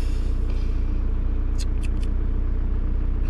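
Car engines idle in a KFC drive-thru queue, a steady low rumbling hum heard from inside a vehicle, with a few brief high hissing squeaks midway and no talk.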